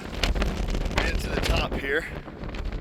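Wind buffets the microphone in low, rumbling gusts on a hike in the Grayson Highlands near Mount Rogers while a person speaks close by, the blustery noise running steadily under the talk.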